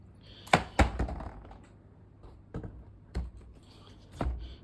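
Sparse hollow thunks and clacks of duct silencers being mounted onto a switched-off DOMEKT R 450 V ventilation unit, a few scattered knocks against a quiet background.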